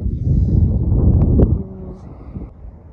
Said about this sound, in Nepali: एकदमै हावा चलिरहेछ